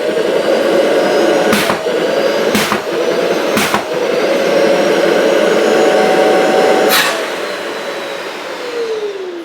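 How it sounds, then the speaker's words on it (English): A Festool dust extractor runs its auto clean cycle: a loud, steady vacuum roar broken by four sharp bursts of blown-back air, then the motor pitch falls as it winds down. "you close it off, you put the extractor into auto clean"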